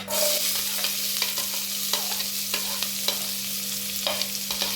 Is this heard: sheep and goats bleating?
no